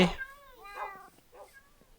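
A Minecraft cat gives a couple of clear, close, high meows one after another, rising and falling in pitch, with a brief burst of another sound just before.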